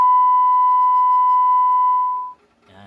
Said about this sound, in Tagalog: Yan, yun yung tunog ng 1K